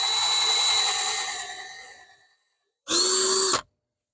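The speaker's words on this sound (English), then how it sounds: "I had to set it to slow so I could drill through the metal." Power drill on its slow setting drilling through metal: a steady whine that winds down and fades out, then a short second burst after a pause, close and alone.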